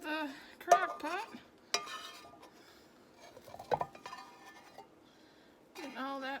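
Soft scraping and clinking of utensils against a pot as cheeseburger soup ingredients are scraped into a crock pot, intermittent light knocks with occasional speech between them.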